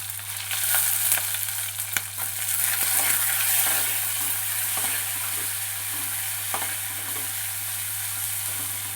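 Steady sizzling of onion, ginger, garlic and green chilli frying in oil, with occasional stirring scrapes, continuous and close throughout.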